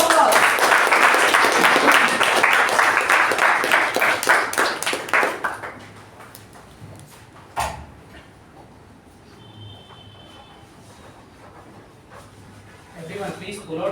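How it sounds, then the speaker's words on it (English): Audience applause at a Toastmasters meeting, dense steady clapping from a room of people for about five seconds, then fading into scattered claps and quiet room noise. "a thunderous round of applause"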